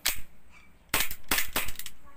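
A WE 1911 airsoft pistol, gas blowback with a hammer housing problem, fires sharp loud snapping shots: one near the start, then three quick ones about a second later, close up with no talk.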